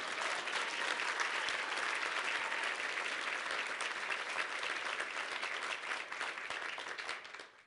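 An audience at a Naval Academy ethics essay award dinner applauds a guest speaker with sustained, even clapping from many hands, heard at a distance, before it tapers off at the end.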